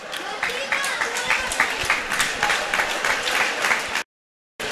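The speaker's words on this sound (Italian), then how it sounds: "Tanto applausi del pubblico del Palabursi per Volyuvak che resta in campo" Home crowd at the Palabursi arena applauds handball goalkeeper Volyuvak during a Serie A Gold match, Secchia Rubiera against Sassari, with dense, sustained clapping for about four seconds before cutting off.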